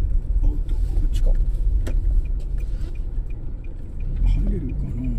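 A Nissan NV350 van drives slowly into Numazu port, its engine a steady low rumble with road noise, while someone talks over it and the sound of passing traffic comes and goes.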